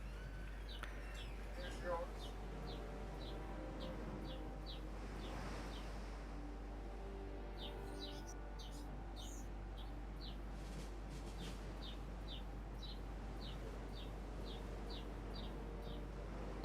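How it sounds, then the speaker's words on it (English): A bird chirps outside a window in short, evenly spaced high tweets that repeat steadily throughout, faint and distant over a constant low hum. "Oh, that's the bird chirping over on your end."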